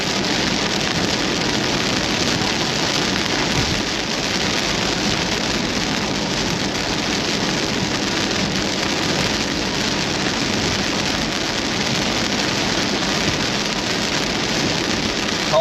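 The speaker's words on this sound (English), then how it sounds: "our storm is kind of messy and wrapped in rain now" Steady rain from a messy Iowa storm hisses continuously and evenly at moderate loudness, with no voices and no distinct thunder.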